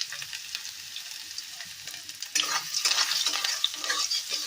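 Garlic and ginger fry in a pan, giving a close, crackling sizzle that grows louder and busier partway through as they are stirred, with no talk over it.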